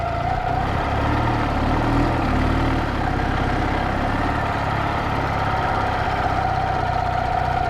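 A 1995 Ural Tourist motorcycle engine running steadily just after a kickstart, a close, even mid-pitched idle with a continuous knocking throb and vibration and no talking.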